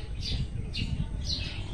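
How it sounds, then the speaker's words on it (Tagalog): A bird calls outdoors on Mount Kulis in Tanay, Rizal, three short high chirps spaced about half a second apart over a steady low rumble of wind or background noise. "may ibon"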